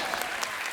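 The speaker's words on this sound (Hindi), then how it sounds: "पलक मुचल जी के लिए जोरदार ताली।" Studio audience applause on a Hindi comedy talk show, a brief, steady wash of clapping heard in the middle of it with no voices over it.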